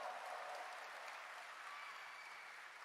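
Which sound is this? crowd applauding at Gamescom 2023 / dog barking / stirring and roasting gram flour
crowd applauding at Gamescom 2023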